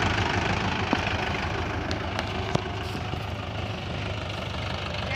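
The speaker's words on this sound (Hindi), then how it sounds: "बिना ड्राइवर का ये ट्रैक्टर चल रहा है।" A Mahindra 585 DI tractor engine runs with no driver aboard, giving a steady, close diesel rumble with an even knocking throb throughout. A few faint clicks sit on top.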